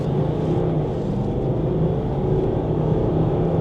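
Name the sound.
Range Rover accelerating hard from a launch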